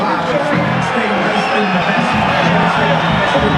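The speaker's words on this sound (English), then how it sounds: "the crowd reacts as they see the main event fighters begin to warm up" A boxing arena crowd murmurs and stirs as the main event fighters warm up, a dense continuous roar of many voices with scattered shouts and a commentator talking over it.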